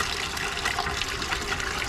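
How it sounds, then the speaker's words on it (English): Water gushes steadily from a tap into a big outdoor campground sink with hot and cold water, a constant close splashing rush with no pauses. "Got hot, cold water out here. A nice big sink."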